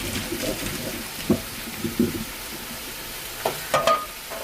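Spinach stir-fried with sugar and salt in a frying pan gives a steady low sizzle, broken by several soft scraping stirs and a few brighter clinks of the utensil near the end.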